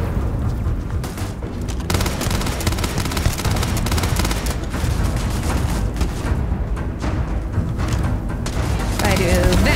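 Sustained rapid gunfire and booming explosions from the Starfield video game fill the whole stretch, loud and dense, with a game voice or player talk mixed faintly underneath.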